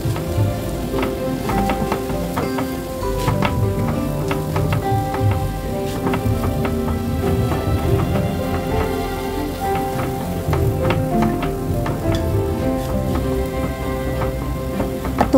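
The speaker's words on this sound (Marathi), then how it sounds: "तुपामध्ये भाजून घ्यायचा आहे।" Grated sweet potato roasting in ghee, a continuous dense sizzle with light crackles throughout, steady and close, with no talking.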